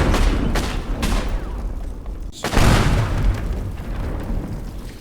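In the video game Teardown, a gunshot sets off TNT in a mine excavation, loud booming blasts with rapid bursts and rumbling debris, a sharp second explosion midway, followed by rolling crumbling noise.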